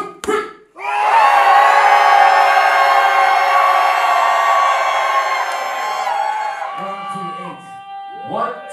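A dance-battle crowd roars and cheers for dancer OG at the House Dance Forever Japan 2017 callout battle final, a loud sustained wall of shouting and noise that swells quickly and holds for several seconds before fading into scattered voices.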